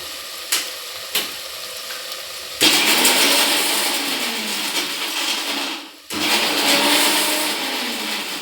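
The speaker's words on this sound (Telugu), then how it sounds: "మిక్సీ శబ్దం డిస్టర్బెంట్ అవుతుందేమో ఏమనుకోవద్దండి" A kitchen mixer grinder is pulsed on after a couple of taps: a loud, whirring motor roar runs for several seconds, cuts out briefly, then starts up again and keeps grinding close by.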